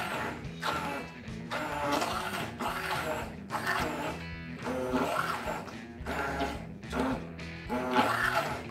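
A small mixer creaming mashed potatoes whirs and clatters at close range in a steady run of rhythmic pulses, its sound choppy and busy throughout.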